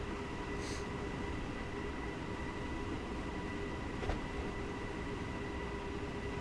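A DB BR426 electric multiple unit runs the Munich to Garmisch route in Train Simulator 2016, giving a steady, even rumble of motor and wheels throughout with faint rail clicks and a brief knock near the end.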